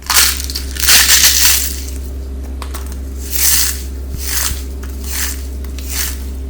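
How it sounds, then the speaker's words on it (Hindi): Crispy fried khaja, a layered flaky pastry, crunches loudly in repeated bites and chews, several bursts of crackling heard close up with no talking. "ये खाजा ऐसा ही क्रंची बना रहेगा"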